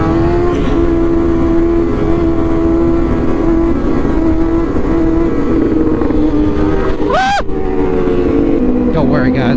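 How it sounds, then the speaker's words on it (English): A motorcycle engine pulls hard at speed through a power wheelie, a loud, sustained, steady drone held throughout with wind noise and a brief shift in pitch near the end. "that power wheelie sounds so cool"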